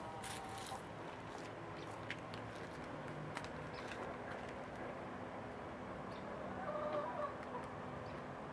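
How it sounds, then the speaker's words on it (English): Chickens clucking and murmuring in a continuous backdrop of farmyard noise, with occasional sharper calls rising above the steady hum. "Your chickens."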